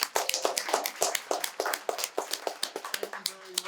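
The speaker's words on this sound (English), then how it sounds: "let's give him a round of applause" Audience applause at a community event in Ardmore, Pennsylvania: a room full of people claps in quick, uneven bursts, moderately close and steady throughout, with no talk over it.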